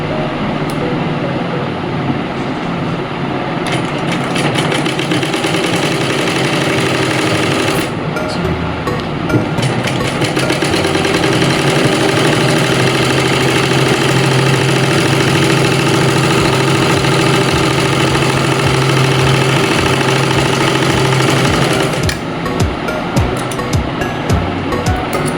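A sewing machine stitches pant fabric in a long, continuous, close mechanical whir with a steady hum, running with only small shifts in intensity for the whole stretch.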